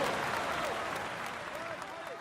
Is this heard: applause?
yes